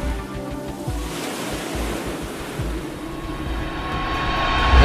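Ocean surf rolls and breaks steadily at a South African kneeboarding championship, a broad continuous wash of waves with wind buffeting the microphone, building slightly louder toward the end.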